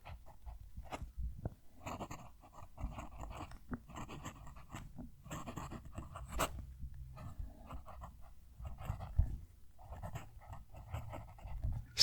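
A fountain pen nib glides across paper in soft, whispery scratching strokes, faint and close, with brief pauses between bursts of writing and no talking.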